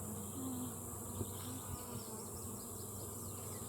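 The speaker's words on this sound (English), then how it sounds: "There's so many bees in here" A dense, continuous drone of many bees buzzing together up close inside a beehive, steady and enveloping with no talking.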